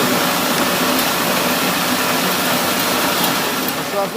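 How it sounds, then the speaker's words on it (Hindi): A destoner combined rice mill machine runs with a loud, steady mechanical roar and whir, an unbroken drone with no pauses throughout. "जैसे कि ये मशीन जिसको D stoner combined rice mill कहा जाता है जी"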